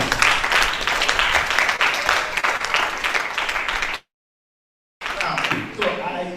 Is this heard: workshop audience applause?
yes